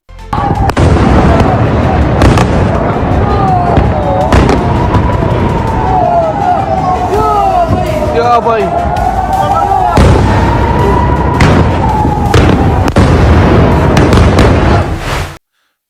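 Continuous heavy booming and crackling blasts from Iranian Fatah hypersonic missile explosions in Israel, with a wavering siren-like wail running through, loud and chaotic for the whole stretch.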